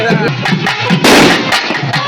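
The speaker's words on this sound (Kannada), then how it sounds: "ಸಣ್ಣ ಸಣ್ಣ ಪಟಾಕಿ" A rapid string of sharp, loud small firecracker pops crackling close by, one burst louder than the rest, during a Karthika Somavara temple festival celebration.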